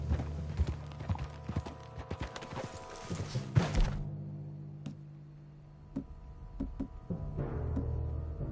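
Horse hooves clip-clop in Red Dead Redemption 2, a string of close, crisp hoof strikes that slows to a few scattered steps, with a low ambient hum underneath.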